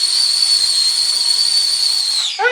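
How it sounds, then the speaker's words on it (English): A tea kettle whistles loudly in a steady, piercing shrill tone, then falters and breaks off near the end. "Oh, my tea! That's what this whistling is. It's my tea kettle!"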